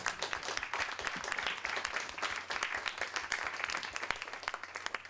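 Warm applause from a conference room audience for a panel of speakers at a finance and nature business session, steady and moderately dense with individual claps standing out, a little distant, with no speech over it.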